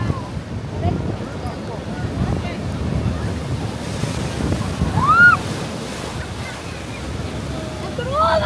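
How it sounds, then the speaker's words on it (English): Storm-driven sea waves surging and crashing ashore at Blackpool during Storm Ashley, a steady roar of surf with heavy wind buffeting the microphone and a louder crash midway, while a person talks nearby. "So you see the sea is coming right up."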